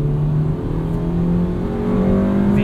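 A 1999 Honda Civic Si engine revs steadily higher into VTEC, a sustained whining drone that climbs in pitch as it accelerates.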